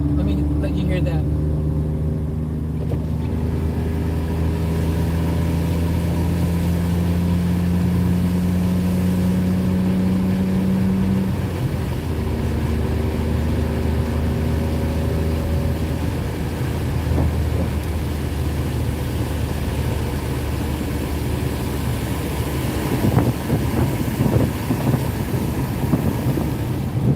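A car engine runs steadily inside a lived-in car, a low droning hum with a rising and falling pitch as it revs, mixed with road and wind noise and someone talking over it.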